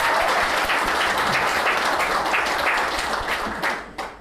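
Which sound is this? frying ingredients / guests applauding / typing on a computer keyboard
guests applauding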